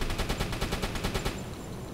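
Rapid machine-gun fire from an attacking aircraft on a strafing run in a U-boat video game, a steady burst of evenly spaced shots lasting over a second before fading into rumbling background noise.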